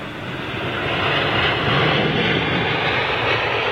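An airliner lands at London Heathrow Airport, a steady, loud engine roar that swells slightly and holds for a few seconds with no one speaking.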